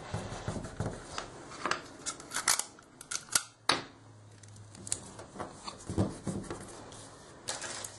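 Small pieces of tape being snipped and pressed down while assembling a paper LOVE banner, giving a string of short, close crisp snips and rustling clicks in an irregular rhythm with brief pauses.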